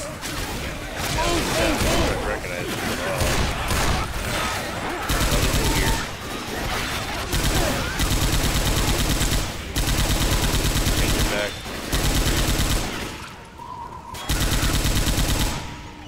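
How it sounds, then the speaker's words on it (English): Rapid, continuous bursts of heavy machine gun fire in Left 4 Dead 2, loud and dense, with short gaps between volleys and a little voice underneath. "Found a different weapon. Which is fucking heavy machine gun."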